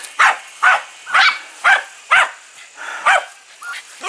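Several dogs bark in a steady series of about eight loud, close yelping barks at a home, evenly spaced over a few seconds with no talking.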